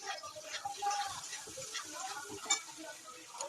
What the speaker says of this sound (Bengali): এদিকে আমি মাছটা ভেজে নিয়ে গেলাম।